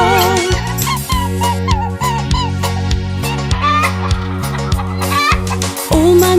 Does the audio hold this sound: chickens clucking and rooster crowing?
yes